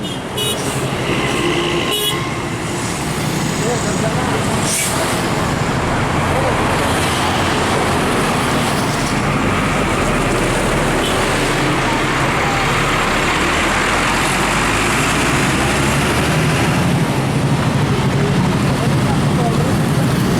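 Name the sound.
bus departing from a bus terminal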